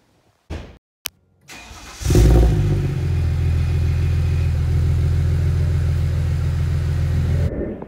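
A single-turbo N54 BMW 135i is started, with a few clicks and a brief starter whir before the engine catches and settles into a steady, loud, deep rumbling idle that holds for several seconds before cutting off.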